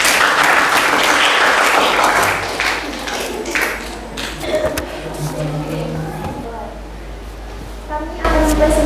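A class claps and applauds for a student group about to present, loud sustained clapping that fades toward the middle, with voices talking in the room.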